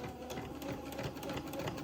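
A sewing machine stitches steadily back and forth across a thick lace and entredeux seam at a sleeve edge, a close, continuous rapid whirring clatter with no talking.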